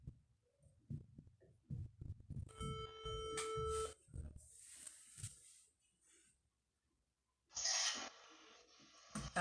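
Telephone ringback tone while placing a call, with repeated ringing bursts and short pauses in between, loud and close, mixed with faint background voices and movement.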